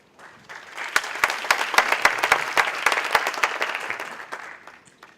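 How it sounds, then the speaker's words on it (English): An audience claps in a steady burst of applause that swells quickly, holds for a few seconds and tapers away, with individual hand claps standing out near the microphone. "I'd like to applaud them."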